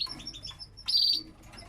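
A canary in a breeding cage gives a quick series of bright, high chirps followed by a louder trilled burst, close and clear with quieter cage sounds between.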